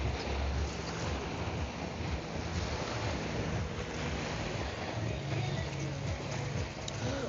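Strong wind sweeps across the seafront promenade in Marmaris, Turkey, a steady, loud broadband rush with gentle gusting swells and no pauses, mixed with a low sea-like roar throughout.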